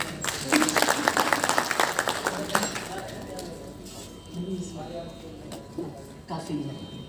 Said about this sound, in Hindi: क्या बात है, आपके लिए तालियां।